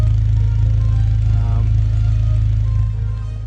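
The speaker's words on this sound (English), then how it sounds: "Dual exhaust, double exit." An Acura TSX / Honda Accord Euro idles through a dual exhaust with a deep, steady drone, close and loud, then dips slightly at the end.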